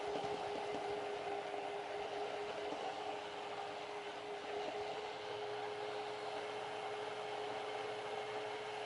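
A kitchen blender running continuously and grinding food, a dense, steady whirring roar with a sustained motor whine that holds at constant loudness throughout, with no pauses and no talk.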